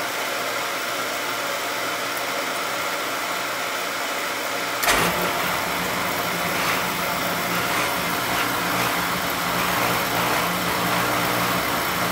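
An oil burner runs with a steady whooshing hiss, then fires about five seconds in, adding a deep, continuous pump rumble that carries on loud and close.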